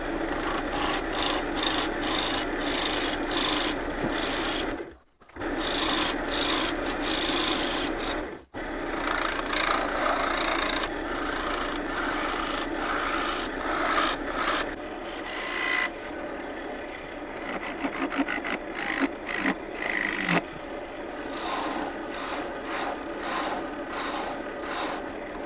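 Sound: wood lathe facing off a segmented bowl bottom

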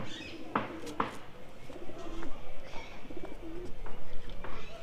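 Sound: pigeons cooing as coop doors open

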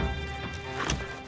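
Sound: horses in video game Red Dead Redemption 2 Online

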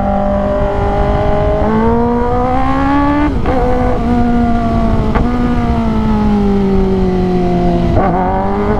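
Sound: Kawasaki ZX10R 2022 motorcycle revving in first gear

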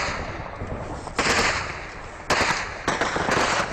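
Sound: gunfire from AK-47 rifles in Afghanistan

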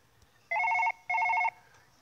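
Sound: phone ringing in Surgeon Simulator mobile video game

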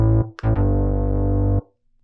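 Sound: synthesizer bass preset

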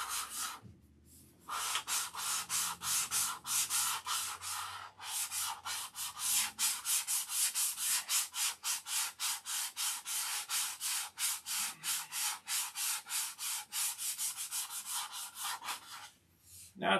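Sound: sanding dope-coated silkspan covering

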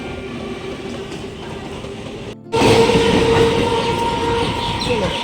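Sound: goods train passing by

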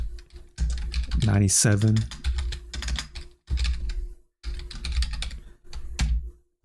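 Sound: typing on a computer keyboard

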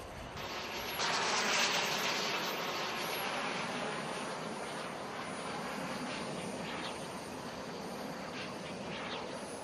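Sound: RC Eagle Jet F-86 with KingTech K-170 turbine flying

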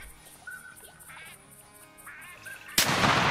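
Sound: ducks and 12 gauge shotgun in video game TheHunter Classic

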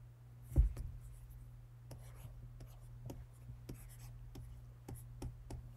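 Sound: stylus writing on Kindle Scribe Colorsoft screen

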